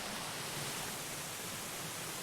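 Oheo Stream in Haleakalā National Park, Hawaii, rushing steadily over pools and waterfalls, a constant broad hiss of flowing water with no other sounds.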